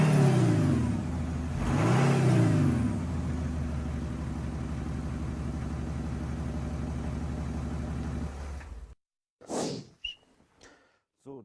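An Audi 3.0L V6 TDI biturbo diesel in dynamic mode revs up, swells to a rising roar, then holds a throbbing, even-pulsed drone for several seconds before stopping abruptly, followed by brief scattered faint sounds.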